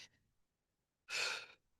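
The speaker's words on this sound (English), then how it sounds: "Deep breathing is very important." Deep breathing during a hands-only balance exercise hold: a brief soft breath, a pause, then one strong close exhale lasting about half a second.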